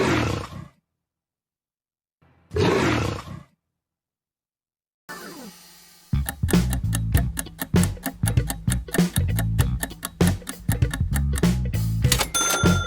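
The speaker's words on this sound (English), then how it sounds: "The Jaguar car logo sound." Two short breathy bursts separated by silence, then a snarling roar rises into a punchy, rhythmic run of percussive music hits: the Jaguar car logo jingle.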